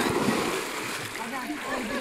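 A person jumps into a river at Sungai Rayu near Kuching, Sarawak, producing a broad, noisy splash with continued water churning and voices in the background.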